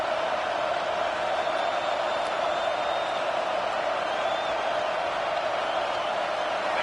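A stadium crowd at a Florida Gators college football game roars on a third-down play, forming a dense, unbroken wash of noise that holds steady and sounds somewhat distant throughout.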